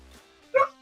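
A dog gives one short bark-like yip close by, being protective of a nearby puppy, with quieter low sounds before and after.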